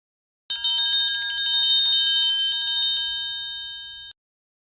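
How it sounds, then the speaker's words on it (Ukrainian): A triangle is struck repeatedly in a children's music class, giving a bright, ringing metallic shimmer that sustains for about three and a half seconds, then stops abruptly when damped. No voices. "Правильно, трикутник."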